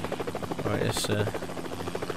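Helicopter engine and rotor in Helicopter Simulator 2014 video game, a steady whirring drone with a rhythmic rotor pulse and a brief high whine rising mid-way, heard under a voice.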